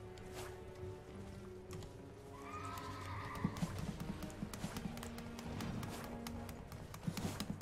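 A horse in the game Elden Ring neighs and gallops with rapid clip-clopping hooves, the whinny rising clearly midway over a busy backdrop of thuds and taps.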